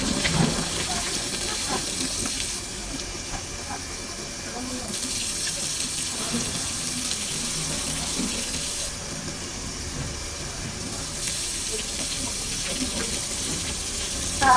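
Tap water runs in a steady, fairly loud hissing stream throughout while a sterile sampling container and its lid are rinsed three times, with the flow briefly shifting in tone as the container moves under it.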